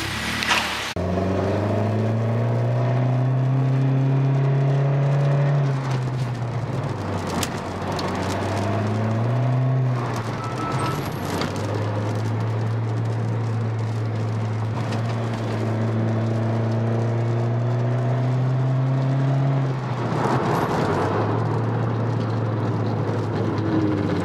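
Onboard drive in a Honda Civic FE: a steady engine drone with harmonic tones rising and falling through gear changes and acceleration, close and continuous, with no talking.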